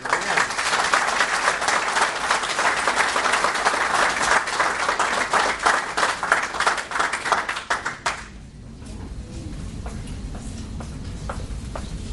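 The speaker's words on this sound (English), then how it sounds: "let's have a round of applause for Brittany" An audience at a Hall of Fame ceremony claps steadily and rhythmically for an inductee, dense and fairly close, tapering off after about eight seconds into quiet room tone.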